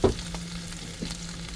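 Sardines sizzling and crisping in oil in a pan for ginisang sardinas, a steady frying hiss with a low hum and a couple of soft stirring clatters, heard close and alone.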